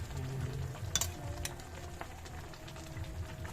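Small tuna fish being cooked in a hot pan for ginataang tulingan give off a steady, fairly quiet sizzle with a few sharper crackles and pops.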